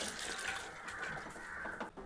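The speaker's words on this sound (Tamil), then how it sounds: "இப்போ இந்த தண்ணியை வடிகட்டிடலாம்." Soaking water being drained off boiled fenugreek seeds, a steady splashing pour into a sink that runs continuously for about two seconds, fairly quiet and close.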